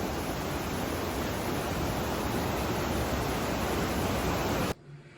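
A steady, loud roar of rushing water fills the clip, unchanging and broadband, before cutting off abruptly near the end.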